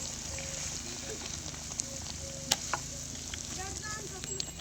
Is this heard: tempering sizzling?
yes